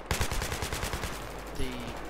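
Rapid automatic gunfire in Battlefield 3 rattles off in a dense burst of evenly spaced shots, loud and close, tapering near the end with a brief whine.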